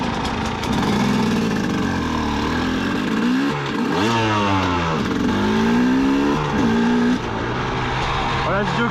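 A 2004 KTM 250 EXC motorcycle engine being ridden nearby, revving up and down repeatedly with its pitch sweeping high and low, loud and continuous throughout.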